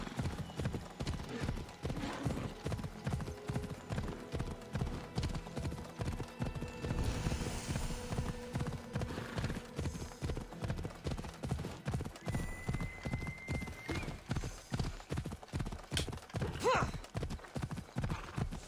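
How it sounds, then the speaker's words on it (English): Hooves of a video game horse pound in a steady galloping rhythm throughout, loud and close, with a brief whinny partway through. "Go, horse, go!"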